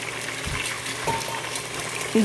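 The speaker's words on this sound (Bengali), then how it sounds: "ডিমগুলোকে ভালো করে এইভাবে নেড়ে চেড়ে কষিয়ে নেব রসুন পেঁয়াজের সাথে" Eggs fry in oil alongside browned onion and garlic, a steady close sizzle with soft stirring scrapes and brief tonal squeaks near the end.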